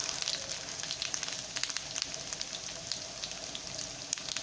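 Huauzontle fritters sizzle steadily in hot oil in a frying pan while being flipped, a close, continuous crackling hiss with small pops and no talking.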